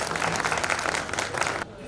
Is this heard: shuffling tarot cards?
no